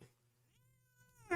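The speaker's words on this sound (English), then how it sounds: "Why are you hissing?" An orange cat gives a single drawn-out, low, grumbling growl close by, rising into a sharper hiss or yowl at the end, with no one talking.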